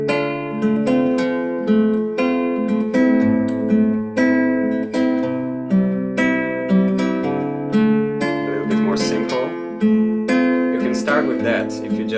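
A plucked guitar plays a steady, repeating chord pattern with clear notes ringing over each other, moderately loud and alone with no voices.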